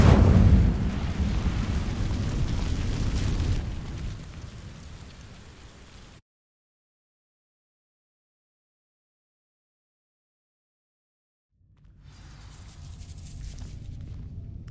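Incendio fire spell in Hogwarts Legacy igniting dry vines: a loud, dense crackling roar for several seconds that fades out, then a stretch of silence before a softer rumbling crackle returns.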